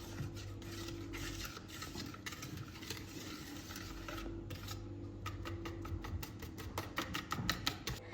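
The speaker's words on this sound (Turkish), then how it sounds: "Ve yine tekrardan karıştırıyoruz" A spoon stirs soufflé batter in a bowl, a steady scraping and clinking against the bowl that grows into quicker, sharper strokes toward the end, with a low kitchen hum underneath.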